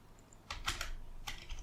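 Several quick keystrokes on a computer keyboard, a short burst of close clicks and taps in a quiet room.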